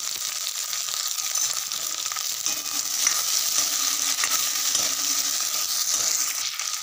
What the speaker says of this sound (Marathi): तर कांदा आपला कलचायला आधी आपण टमाटा टाकणार आहे आणि अद्रक आणि लसूण आहे पण आपण तेल मा 5 मिनिटं कलची लिहू।